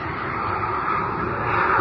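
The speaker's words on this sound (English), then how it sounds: "the pogo plane levels off and begins its electronically guided glide" Pogo plane, a half-missile, half-plane skycraft, gliding in a comic audio drama, rendered as a loud, steady engine-like roar and rushing whoosh that holds evenly throughout without speech.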